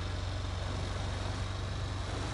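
A Mahindra farm tractor's engine runs steadily at close range, a low pulsing drone with a constant rhythmic throb and no talk over it.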